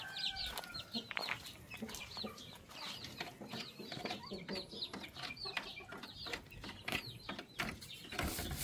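Shamo gamefowl clucking and calling repeatedly in a pen, with scattered bird calls overlapping at close to moderate distance and a busy outdoor background.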